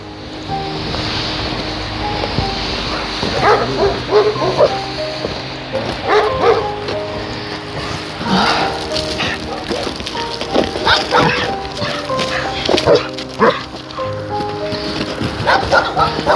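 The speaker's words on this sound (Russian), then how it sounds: "Ой, вот собачка прибежала." An agitated dog barks repeatedly outdoors amid wind and rushing water, with the barking scattered through steady background noise and a person talking over it.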